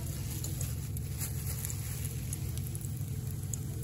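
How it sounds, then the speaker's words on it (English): Breaded paçanga pastry frying in hot oil in a pan gives off a steady, dense sizzle and crackle that holds at an even level throughout, with no voices. "And then it goes into the frying pan with the hot oil."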